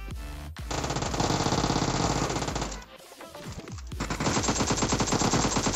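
Rapid automatic gunfire in the battle-royale game PUBG, two long sustained bursts of dense shots separated by a brief pause, loud and close with no talk.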